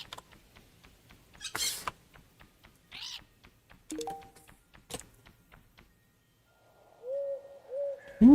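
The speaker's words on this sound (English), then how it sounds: "Come the parrots." Parrots call in the Sword & Sorcery video game: a few short, separate chirps and squawks scattered over soft game background sounds, with a rising whistle-like tone near the end.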